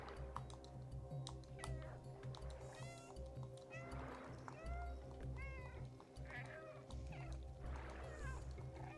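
Cat meows from the playable cat in the video game Stray, several short mewing calls spread across the stretch over steady game music and ambience, with faint tapping in the background.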